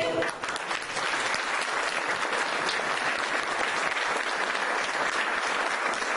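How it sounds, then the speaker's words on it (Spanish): Warm, sustained applause greets the mayor at a property title handover ceremony for local neighborhoods, a thick, even roar of many hands clapping close by. "un caluroso aplauso para nuestro señor intendente"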